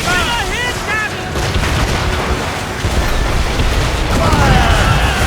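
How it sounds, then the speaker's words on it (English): Enemy ship cannons fire and strike the vessel in Assassin's Creed Rogue, a loud continuous rumble of booms and impacts with crew voices shouting over the din. "They're firing! Taking a hit, Captain!"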